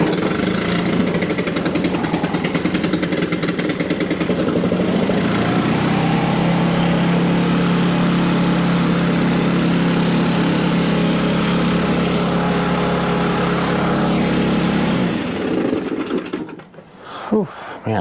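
Stihl BR800 backpack leaf blower engine running steadily at half throttle, a loud, continuous buzzing drone with a rough tone that settles into a smooth hum before cutting out near the end, followed by brief quiet handling noises.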